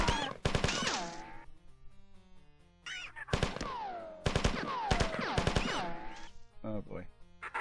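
Pistol gunfire in the video game Marathon, sharp repeated shots in short bursts alongside groaning creature cries and sliding electronic tones, with quiet gaps between volleys.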